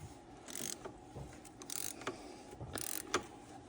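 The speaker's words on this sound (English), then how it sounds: "take our same ratchet, take that long extension, and again, this is a 32 millimeter socket. We're gonna break that loose." A ratchet on a long extension with a 32 mm socket breaking loose a fastener during an oil and filter change on a 1999-2005 Oldsmobile Alero or Pontiac Grand Am: a few short, fairly quiet bursts of mechanical clicking and rasping, spaced about a second apart.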